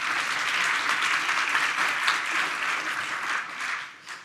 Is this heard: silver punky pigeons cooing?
no